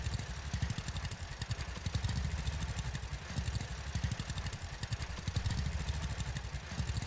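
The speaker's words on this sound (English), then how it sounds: "I think they kind of need to work on the sound effect for this tractor too a little bit" A tractor engine in the farming video game Farmer's Dynasty chugs in a steady, rapid, clattering idle rhythm throughout, quiet and uninterrupted.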